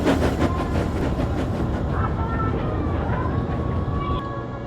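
Steam locomotive Timothy puffs into a narrow tunnel, a steady dense chuffing rumble with faint whistle-like tones above, loud and continuous throughout.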